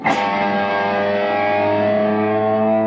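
An electric guitar plays a trick bend, a single picked note with distortion and echo that sustains and shifts pitch smoothly, loud and close with no talking.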